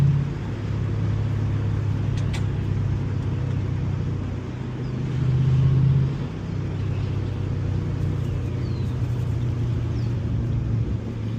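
Ford Mustang GT with manual gearbox, its engine and exhaust droning steadily from inside the car while driving, with a loud low rumble that swells briefly around the middle as it revs.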